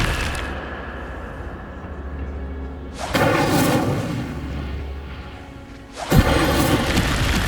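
The Incendio fire spell goes off in the video game Hogwarts Legacy, two heavy booming bursts of flame a few seconds apart, each a sudden loud whoosh that tails off over a low rumbling background.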